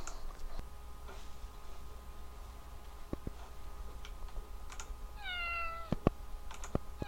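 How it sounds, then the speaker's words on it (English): A single synthetic cat meow plays from an emulator app, a short rising-falling cry near the end, with light keyboard-like clicks and ticks scattered around it against a quiet hum. "you should get a meow sound."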